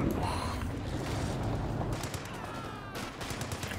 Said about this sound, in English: What direction was that machine gun facing?